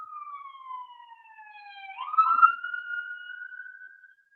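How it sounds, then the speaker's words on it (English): A police car siren wails in long falling then rising tones, one continuous sweep that swells louder midway, with no voices. "Here comes the police. That's the sound of the police."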